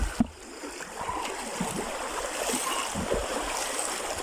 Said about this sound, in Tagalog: Nagdapak po tayo sa tubig dyan